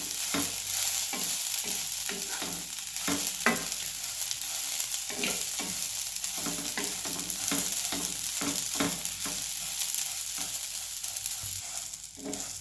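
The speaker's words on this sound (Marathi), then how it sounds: "तेल ओतून भाजूया चांगली भाजते मटकी मोड" Sprouted moth beans roast in a little oil in a pan, with a constant close sizzle broken by regular scraping strokes of a spoon stirring them.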